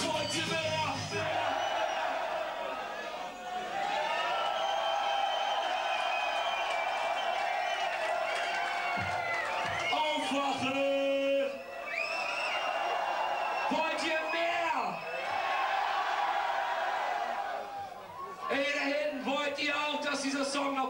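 A hip hop concert crowd in Heidelberg cheers, whoops and shouts continuously over loud live music, the roar swelling and dipping throughout with a performer's voice on top.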